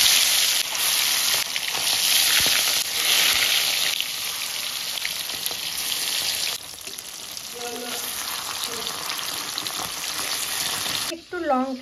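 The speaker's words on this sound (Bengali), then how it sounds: "তেলটা গরম হয়ে গেছে," Fish seasoned with salt and turmeric sizzles loudly in hot oil in a home kitchen, a constant crackling hiss that later softens and gives way to a few clinks of a utensil against the pan.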